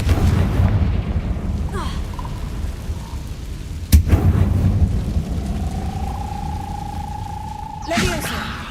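A fire-blasting spell is cast in a wizarding video game, with a sharp burst landing mid-clip over a continuous rumbling game backdrop, followed by a rising whoosh and a second burst near the end.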